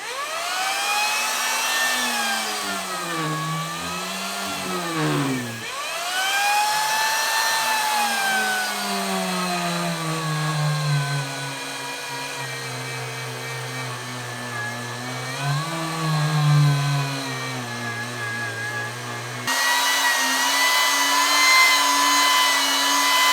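A Parkside PGS 500 die grinder polishes a weld, whining steadily at high speed with its pitch sagging and recovering as it bites into the metal, loud and close throughout with no talk.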